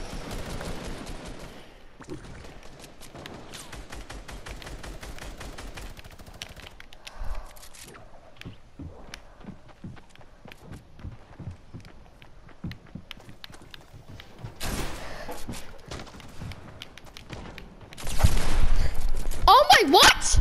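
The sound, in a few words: gunfire in Fortnite video game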